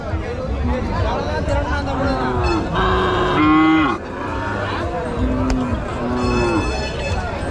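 Cattle at the Marapalli cattle market moo in several drawn-out, fairly close calls, with a steady crowd murmur and voices beneath them.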